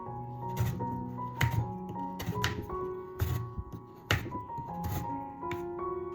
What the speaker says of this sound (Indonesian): Ini kita potong-potong dulu.